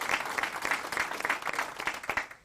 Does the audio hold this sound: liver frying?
no